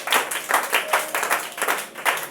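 A church congregation clapping for the Lord, a close rhythmic burst of many hands beating a steady pulse with a voice faintly mixed in.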